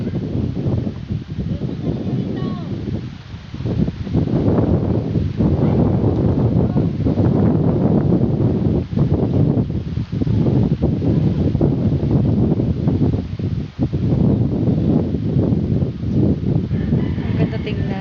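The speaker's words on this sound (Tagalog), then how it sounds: "Ang lakas ng hangin dito sa amin." Strong wind blowing across freshly planted rice paddies in front of a house, a steady loud rush and buffeting against the microphone that runs throughout, with a person talking over it.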